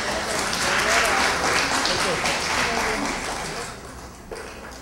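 Applause from a crowd at a neighborhood prize draw, a broad steady clapping wash lasting several seconds that gradually thins out toward the end.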